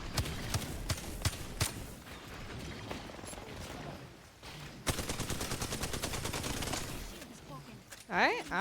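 Rapid bursts of gunfire from a video game shooter crackle through the whole stretch, single shots early then a denser volley of automatic fire, with players talking over the action.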